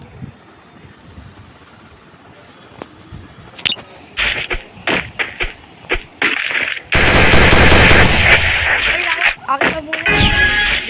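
Gunfire in the Free Fire video game, with scattered single shots building into bursts and then a dense sustained stretch of automatic fire, loud and close.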